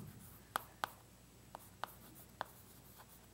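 Writing on a board during an arithmetic lecture: a steady run of sharp, distinct taps and strokes at fairly even intervals, close and clear with no talking over them.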